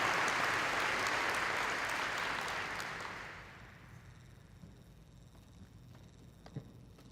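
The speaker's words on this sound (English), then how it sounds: "So one more big round of applause for them" An audience at a school district opening gathering gives a big round of applause for district staff, loud dense clapping that fades out after about three seconds, leaving a quiet room with a few faint stray sounds.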